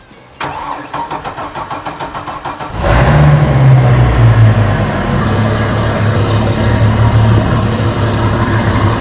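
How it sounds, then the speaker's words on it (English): A boat's inboard engine, run on a water supply during winterization, cranks with rapid rhythmic turnover for a few seconds, then catches and settles into a loud, steady running drone close by. "now I can get in the boat and start the engine"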